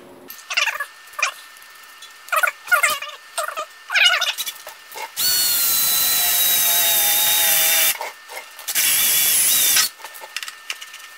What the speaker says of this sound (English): It's a little deburring, deburring cutter in a, uh, in a handle.